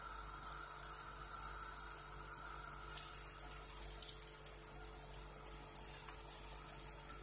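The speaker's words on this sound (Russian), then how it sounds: "и кладем на раскаленную сковороду." Rotan fish cutlets frying in oil in a hot pan, giving a steady, even hiss and sizzle with small scattered crackles that carry on without pause and with no talk.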